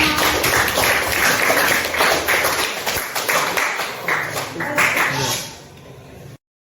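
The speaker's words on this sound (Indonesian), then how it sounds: "Tepuk tangan untuk kita semua." Participants applaud at the close of a coaching presentation for academic supervision, brisk overlapping hand clapping from a small group that tapers off and stops abruptly.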